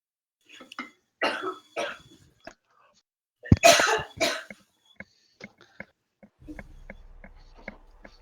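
A person sneezes sharply and loudly up close, amid scattered coughs, throat clearing and soft breaths from people nearby during a tabletop role-playing game session.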